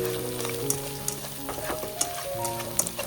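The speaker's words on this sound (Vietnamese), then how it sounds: "Đảo đều khoảng 1 phút để sườn quyện với mùi thơm của hành và tỏi." Pork ribs sizzle and fry in a pan with shallots and garlic as they are stirred, with steady close hissing and occasional scraping clinks of a utensil against the pan, and no talk.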